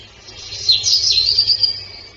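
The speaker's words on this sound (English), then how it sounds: "it comes with automated bird sounds" Bright, high bird chirps and twittering come from the small built-in speaker of a window bird feeder, steady and fairly close, with no talking.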